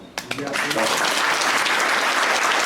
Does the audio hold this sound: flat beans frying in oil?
no